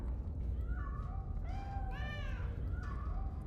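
A cat in the video game Iron Nest meows several times, rising and falling calls layered over a loud, steady game soundtrack.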